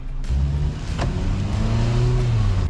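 A Hyundai Avante sedan engine hums steadily at moderate volume during a test drive, a smooth continuous drone with a slight rise partway through, no voices.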